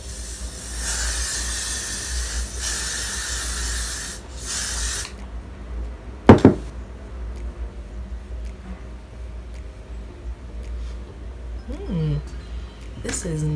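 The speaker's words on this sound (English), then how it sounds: "I'm just gonna spray some of this because I don't know, it says blasting free spray." Broadband hissing of hairspray for about five seconds at the start, then a sharp clatter and faint rustling with a voice near the end.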